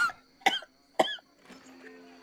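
Three short, sharp coughs come in quick succession, each loud and close, followed by a softer trailing sound, with no speech over them, heard in dusty conditions in a video game.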